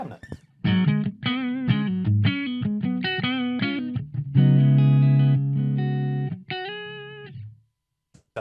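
An electric guitar played through computer amp and cabinet simulation with a Shure SM57 setting, distorted strummed chords and ringing single notes, loud and close with no talking.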